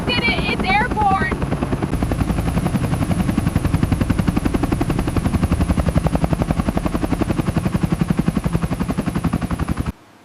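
A helicopter lifts a Range Rover out of a tree, its rotor beating in a fast, steady, loud chop throughout, with brief shouting and cheering at the start before the thumping continues alone and cuts off abruptly.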